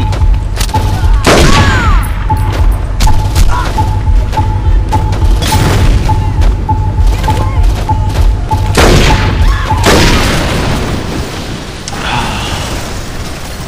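Dense gunfire and booming explosions from the video game Saints Row 2 run continuously and loudly, with rapid bursts and heavy blasts layered throughout.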